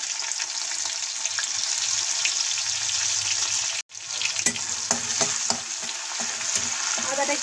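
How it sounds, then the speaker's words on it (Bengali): Ginger frying in hot oil with cumin seeds, a bright steady sizzle with scattered crackles and stirring, cut by a brief silent gap partway through before resuming just as loud; nobody speaks. "আদাটা একটু ভেজে নেব।"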